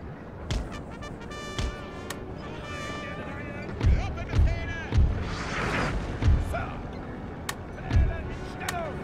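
Artillery fire in a Napoleon Total War battle, repeated deep booms at irregular intervals, some clustered close together, over a busy layer of battlefield noise with someone talking over it.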